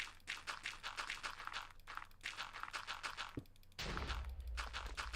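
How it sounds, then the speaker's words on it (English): Rapid bursts of gunfire and blasts crackle continuously at moderate distance in a modded Minecraft (Cobblemon) game, with a heavier burst near the end, no talking. "I hear explosions."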